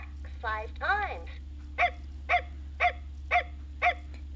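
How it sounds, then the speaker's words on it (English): Recorded dog barks from a VTech Learning Walker toy: after two brief whimpering yips, five evenly spaced electronic barks ring out clearly over a low steady hum. "The dog barks 5 times."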